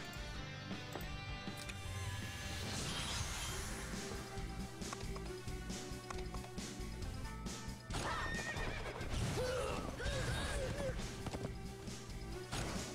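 Horses neigh and whinny over galloping hoofbeats and crashing battle effects in the mobile strategy game Langrisser, a busy, continuous game soundtrack with music underneath.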